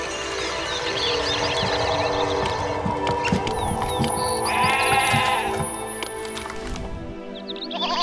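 Sheep bleat repeatedly in the city-building game Master of Olympus Zeus, nasal wavering cries overlapping a busy background of game music and ambient town noise, fairly close and loud, stopping abruptly near the end.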